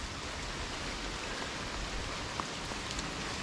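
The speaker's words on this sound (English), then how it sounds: "Oh, it's absolutely bucketing it down now." Heavy rain pours beside a small river in Kent, a dense, even hiss of drops on surfaces that continues unbroken, with no voices.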